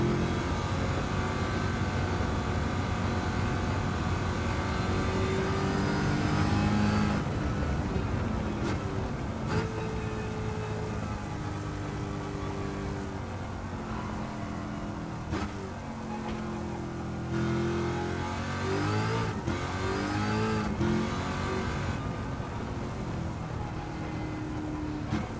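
Corvette C8 engine in Gran Turismo 7 at Mount Panorama, a steady loud drone whose pitch climbs and shifts through gear changes as the car accelerates, continuous with no talk.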